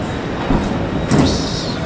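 Train standing at a platform in Zurich Hauptbahnhof, a bi-level Swiss passenger train, gives a steady rumbling hum with brief swells and a faint hiss near its end, heard close with no talk.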